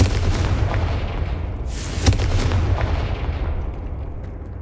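A Confringo fire spell blasts in Hogwarts Legacy, a sharp booming explosion with a bright whooshing burst around the middle, ringing against a rumbling game soundscape, no talk heard.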